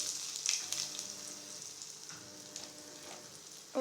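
Crushed ginger frying in hot oil after mustard seeds have popped, giving a faint, steady hiss of sizzling with a few soft stirring touches and a brief louder clatter at the end, quiet and without talk.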